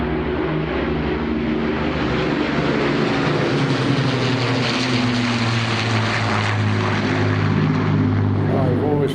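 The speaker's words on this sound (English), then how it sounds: "Powered by 4 Rolls-Royce Merlin engines, the Lancaster had both the power and reliability to fly long missions deep into enemy" Four Rolls-Royce Merlin piston engines of an Avro Lancaster bomber drone in a loud, steady, throbbing roar, droning on continuously without a break, with a voice talking over the engine noise.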